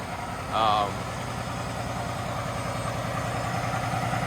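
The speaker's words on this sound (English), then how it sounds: "I got it on a high idle right now" A 2022 Peterbilt 389 truck engine idles at a raised, even pitch on high idle with a constant low rumble, close by, briefly overlaid by a short higher tone near the start.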